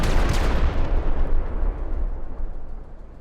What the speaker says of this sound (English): Mortars. Second mortar. Little off.